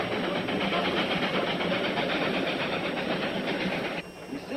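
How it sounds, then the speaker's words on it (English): A small train runs steadily along its rails, a loud, continuous rolling rumble with faint clacking that holds even until a slight drop near the end. "That beautiful little train."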